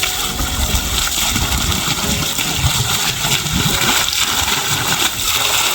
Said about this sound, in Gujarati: ઓલી બાજુ મોટર ચાલુ થઈ ગઈ છે, કદાચ દેખાતું હશે તમને વિડીયોમાં। ડેટકાનું પાણી હવે ધીમે ધીમે ચાલુ થઈ ગયું છે।